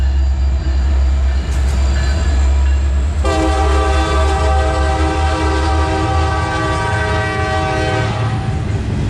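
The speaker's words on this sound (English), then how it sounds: "There's a train." A train rumbles past loud and close, its long horn blaring through most of the pass over the steady roar of the wheels.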